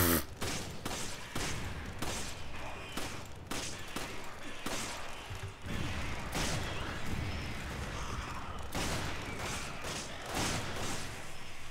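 Rapid, dense gunfire and grenade blasts in Resident Evil 5 combat, a continuous barrage of thumping shots and explosions at moderate level, with no clear speech over it.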